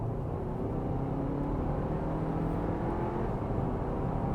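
A 2024 Audi Q5 in dynamic mode accelerates with a low, steady engine hum and road noise from inside the cabin, quiet and even, with no one speaking.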